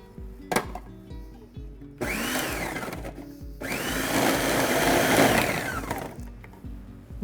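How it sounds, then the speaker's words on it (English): A food processor grates ingredients for jerk salmon, loud whirring bursts of motor noise, one short and one longer, separated by brief pauses with a few clunks. "today we're going to use a food processor to grate the ingredients"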